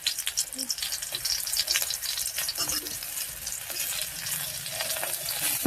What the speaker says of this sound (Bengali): আমি হালকা করে চিড়েটাকে একটু ভেজে দিচ্ছি